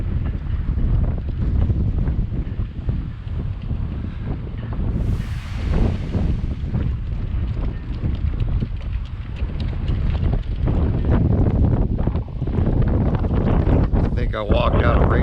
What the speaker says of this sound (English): It is a bit of a headwind